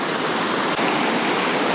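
An amazing creek at a California campsite on the Main Salmon whitewater trip rushes loudly and steadily, a close, full wash of water with no voices.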